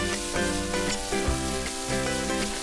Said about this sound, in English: Then add half tablespoon Goan vinegar for a nice tangy flavor. Fry this for about a minute again.